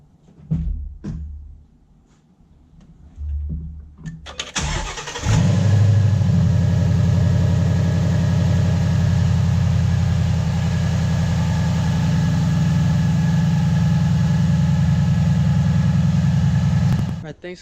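A Ford Mustang GT (S550) V8 fitted with an Airaid cold air intake cranks over and starts, then settles into a loud, steady, rumbling idle that runs without a break for over ten seconds after a few faint clicks and movements.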